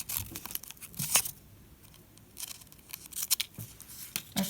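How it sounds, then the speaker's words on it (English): Scissors snip and trim around a double-folded paper figure's drawn head and hair, a few crisp close cuts and rustles clustered in short bursts. "I'm going to trim all the way around his head, which we drew in."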